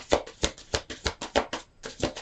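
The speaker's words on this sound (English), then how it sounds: "One more shuffle here." A deck of tarot cards being shuffled by hand, a quick run of crisp riffling and tapping bursts, close and fairly quiet, with no voices.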